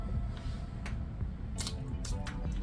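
Elizabeth Arden Red Door perfume sprays from a glass bottle with a gilded top, giving two or three short, crisp hissing bursts close by in a quiet room.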